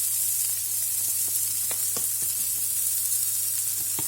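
Spices and oil sizzle in a frying pan with a loud, continuous hiss, close up, with a few light scrapes of stirring on top and no talking.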